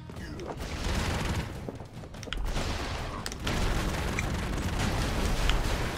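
Dense explosions and rattling gunfire from the run-and-gun video game Broforce, a continuous chaotic barrage of blasts and crackling bursts at steady loudness.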